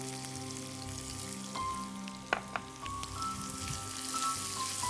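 Whole garam masala (cardamom, cinnamon and cloves) sautéing in hot oil gives a steady, close sizzle with a few sharp pops and clicks, while a faint tonal hum runs underneath.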